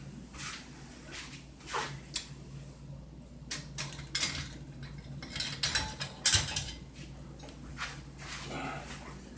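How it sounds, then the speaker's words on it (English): Metal tines of a pastry blender scrape and clink against a bowl, cutting butter into flour in irregular strokes, a close rhythmic cutting and tapping with soft handling noises between. "This is a pastry blender"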